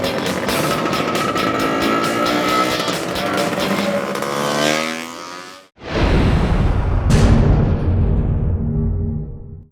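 A BMW S1000RR superbike of nearly 200 horsepower on a race track, loud engine roaring up through the gears with rising pitch, a brief cut at a shift, then another hard full-throttle pull close by.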